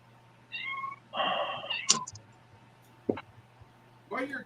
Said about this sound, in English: keep thinking I hear a kitty. Is that a kitty?